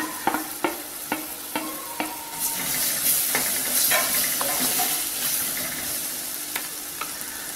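Tomatoes fry in curry masala for a prawn curry, with a bright hissing sizzle and repeated sharp clicks of a spoon stirring against the pan, loud and close, with no voices.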